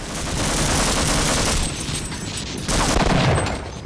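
Dense, continuous video game gunfire with an MP5 machine gun, shotgun and grenades, a loud unbroken barrage of rapid shots and bursts that briefly dips before surging again.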